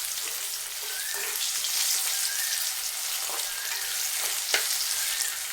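Small shallots, salted and softening, fry in a pan with a continuous crackling sizzle, broken by light scraping and tapping from occasional stirring.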